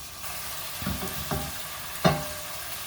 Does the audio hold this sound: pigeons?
no